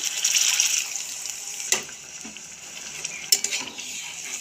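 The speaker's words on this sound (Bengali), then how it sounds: "এখন আমি দিয়ে দিচ্ছি মিক্সির বাকি ধোয়া জল" Rinse water from a mixer jar going into a jackfruit kofta curry gravy in a pan, giving a bright hissing sizzle with a couple of sharp clinks of a utensil.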